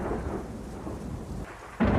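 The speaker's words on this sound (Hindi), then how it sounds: "तूफान तेज होता जा रहा था।" A thunderstorm with steady rain hisses throughout, a low rumble of thunder rolling underneath, then a sudden louder burst of rain and thunder near the end.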